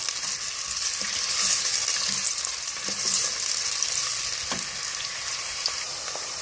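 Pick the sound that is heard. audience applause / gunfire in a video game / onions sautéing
onions sautéing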